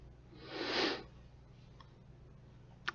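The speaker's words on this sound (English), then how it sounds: "Sorry about the sniffles too, my allergies are acting up pretty bad today." A single breathy allergy sniffle, close and soft, followed by quiet room tone and a couple of faint clicks near the end.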